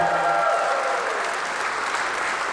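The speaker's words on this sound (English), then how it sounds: "how about a big round of applause for the bride and groom?" Wedding guests applaud the bride and groom in a sustained burst of clapping that fills the room, steady and fairly loud from start to finish, with a brief tone audible at the very beginning.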